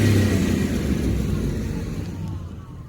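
A 2002 Ford Explorer SUV's engine and exhaust rumble loudly up close with a deep, throaty revving note that slowly eases off toward the end.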